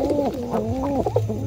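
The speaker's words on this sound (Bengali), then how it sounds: "এটা আমার রেসারের পায়রাটা।" Giribaj pigeons at their nests give a close, continuous run of soft throaty cooing with rising and falling rolls, clearly heard without any talk.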